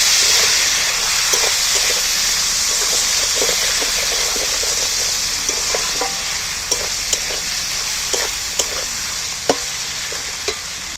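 Jackfruit curry with tomato and ginger fries in a pan with a strong, steady sizzle and hiss, while a spatula scrapes and clicks in irregular strokes as it is stirred.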